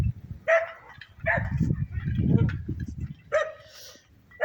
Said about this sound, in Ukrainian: Господи, знову ці собаки.